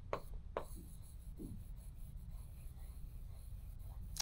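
Faint scratching strokes of a pen or marker writing on a board during a reasoning lesson, a few soft scrapes early on, then quiet room hum.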